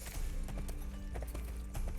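Horse hooves clip-clop in the video game Sacred 2, a quick, even trot of repeated thuds over a continuous game backdrop.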